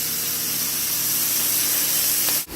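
Onions frying in leftover pork juices in a pan give a loud, steady, dense sizzle that cuts off abruptly at the end, with no voices.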